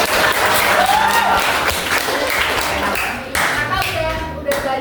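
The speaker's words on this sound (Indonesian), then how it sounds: "Tepuk tangan buat" A class of children claps together in a steady, fairly loud burst of applause, with a few voices mixed in over the clapping.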